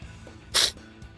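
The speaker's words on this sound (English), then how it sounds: "And now I'm starting to sneeze all over the fucking place." A single sharp, loud sneeze close to the microphone, breaking a quiet stretch during a Celeste gaming session.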